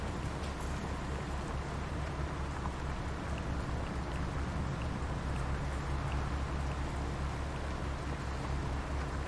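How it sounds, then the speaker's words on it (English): Rain in Farming Simulator 22 pours in a continuous, even patter during mulching work. A low machine rumble lies underneath, and the level stays constant throughout with no talking. "We're mulching in the rain."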